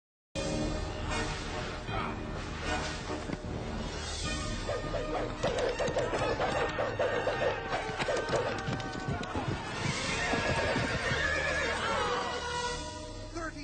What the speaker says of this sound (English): horses being spurred to jump across, as we see in the movie